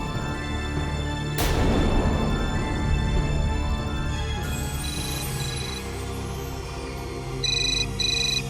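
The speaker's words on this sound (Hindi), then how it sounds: "मुझे क्यों फोन कर रही है?" A phone ringtone in a Hindi TV drama scene plays as short repeated electronic beeps in bursts, layered over steady background music with no talking.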